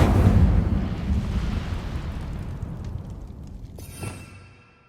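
An Incendio fire spell erupts in a loud, roaring fiery burst that washes out at once and slowly fades, with a brief crackling flare near the end before it dies away.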